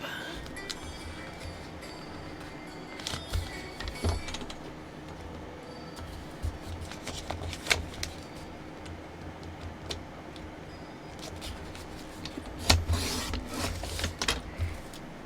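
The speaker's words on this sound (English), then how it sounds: "I'm going to do it with my cutter because it's already out." A craft cutter slices through junk mail envelopes in faint, scattered scraping and clicking strokes against quiet room noise, with a louder burst of cuts near the end.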